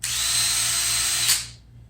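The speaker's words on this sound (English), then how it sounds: "when you're drilling, smaller bit, faster speed, larger bit, slower speed is the rule of thumb." A power drill bores holes for guitar fret ferrules, a steady high whine that runs continuously for over a second before spinning down and fading out.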